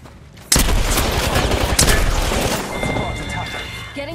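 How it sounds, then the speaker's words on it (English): Sustained burst of gunfire in Apex Legends, a loud rapid fusillade of shots erupting suddenly and rattling on for several seconds with heavy booms, no voices over it. "Getting shot at."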